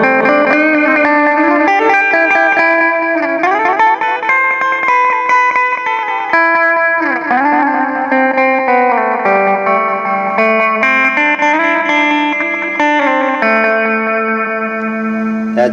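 Electric guitar played through a cheap budget delay pedal, a steady run of sustained chords and melodic lines trailed by repeating echoes and reverb wash, loud and continuous without any talk.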